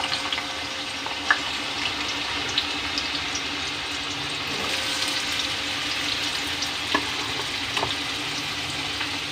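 Carrots, cauliflower and potatoes sizzle together in hot ghee in a kadai, a steady, close crackling hiss. Occasional sharp ticks and spatters punctuate the sizzle throughout.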